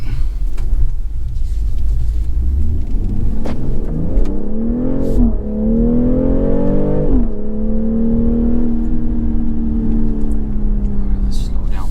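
A 2023 BMW X3 M40i SUV accelerates hard on a road, its engine note climbing through the gears with a brief dip at each shift, heard from inside the cabin over a constant low road rumble.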